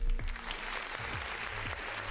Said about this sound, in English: We need some applause in here right now.